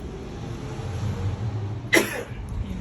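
A single short cough, close and sharp, against a quiet low background hum.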